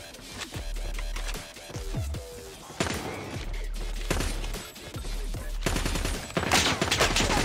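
Gunfire from a level-11 gun in the video game Call of Duty Mobile: repeated rapid volleys of sharp, loud shots in quick bursts, densely layered throughout, with only brief gaps.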